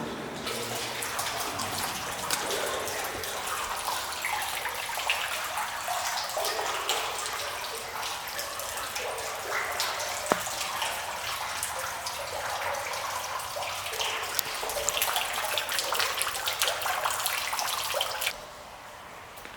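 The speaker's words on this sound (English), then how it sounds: "I'm just trying to soak my feet. It's not that deep, it's just a little vat." Water sloshing and splashing as feet soak in a shallow vat inside a pump room of an unfinished nuclear power plant, a continuous echoing wash of liquid lasting most of the time before stopping abruptly.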